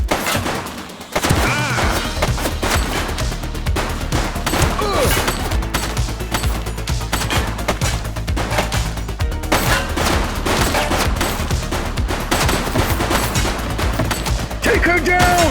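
Sustained, loud bursts of gunfire from the police video game The Precinct, with rapid shots layered into a dense fusillade over a constant low rumble after a brief quieter opening, and faint voices mixed underneath.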